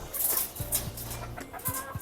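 Chickens cluck nearby at feeding time as poultry feed is given, short rhythmic clucks repeating through low background noise, faint and unaccompanied by speech.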